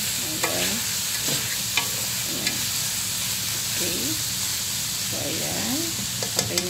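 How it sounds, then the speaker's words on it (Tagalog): A spoon stirs a simmering baked macaroni sauce in a pan, with a continuous soft sizzle under repeated scraping strokes and light taps, close and fairly quiet. "So, haluin na natin maigi."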